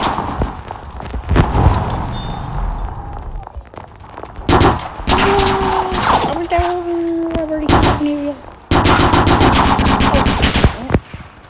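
Machine gun fire in a D-Day video game, with sustained rattling bursts and scattered shots layered over battlefield din, whooshing effects and rising tones, loud and continuous for most of the stretch.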